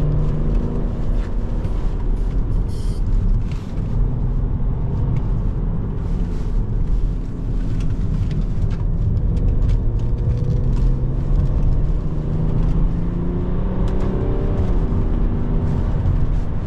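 A BMW X5 E70 3.0 SD twin-turbo diesel car accelerates hard on a twisty road, its engine drone rising and falling steadily for the whole stretch with a constant rumble heard from inside the cabin, and no voices.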